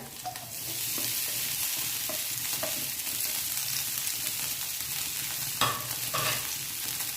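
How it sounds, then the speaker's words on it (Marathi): Green chillies and potatoes fry in a pan with a steady, close sizzle. Occasional scraping stirs and clinks cut through the frying, and no one speaks. "आपल्या मिरच्या पण अगदी चांगल्या फ्राय झालेल्या आहेत यामध्ये आपण हे बटाटे घालणार"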